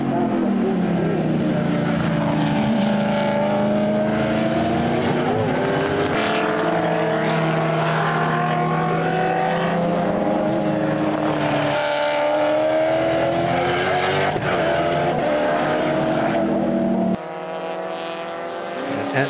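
Race cars at a WA Sporting Car Club circuit race screaming past one after another, loud and close, engine notes rising and falling as they overtake slower cars, continuous roar with a drop near the end.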